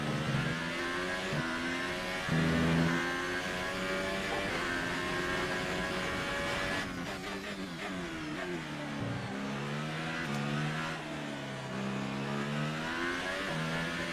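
A video game car engine revving and accelerating, the pitch repeatedly climbing and dropping as the gears shift, loud and continuous with no voices.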